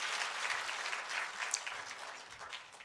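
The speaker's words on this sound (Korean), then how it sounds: "자, 박수 한번 보내주세요." An audience at a lecture for pastors claps for a few seconds, with dense, even applause from a sizeable crowd close by.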